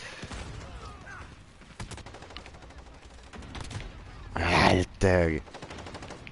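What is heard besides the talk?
gunfire in video game Call of Duty Modern Warfare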